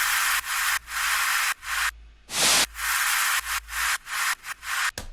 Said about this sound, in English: one thing I did do is I added these white noise elements down here.